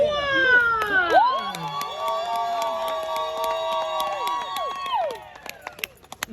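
At a Hawaiian luau contest, an audience yells, whoops and screams loudly for contestant number one, with high sustained cries rising together and holding for several seconds before breaking off into scattered claps and noise.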